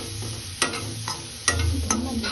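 Boiled sweet corn and pasta being mixed in a pan, with close scraping stir strokes, several sharper scrapes over a soft steady sizzle.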